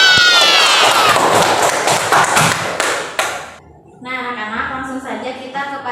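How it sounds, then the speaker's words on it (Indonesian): A classroom of children claps together in a dense burst of applause for a few seconds, then it fades into lively voices talking. "Tepuk tangan dulu untuk kita semua"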